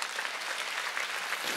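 A church congregation claps in steady, continuous applause during a Wednesday worship service. The sound is fairly quiet and even throughout the short stretch.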